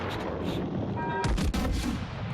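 Naval gunfire from a warship's secondary battery in a video game, a dense continuous barrage of booming shots with a heavier burst midway, loud and layered over constant battle noise.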